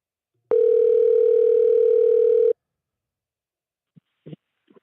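A telephone call tone on a live show, one steady two-second electronic beep standing alone, followed by a few faint, brief clicks and rustles.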